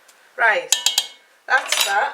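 A Dutch oven pot and its lid clank together in a few sharp metallic knocks and scrapes across two quick bursts, close by, with a brief spoken remark in between.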